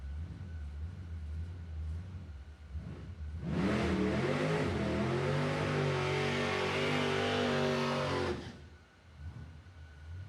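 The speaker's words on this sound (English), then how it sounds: "Sounds like a supercharged car." A supercharged 1967 Ford Falcon with a 429 big-block V8 roars past at a drag strip, swelling loud for several seconds with a rising engine note before fading away, heard alone without talk.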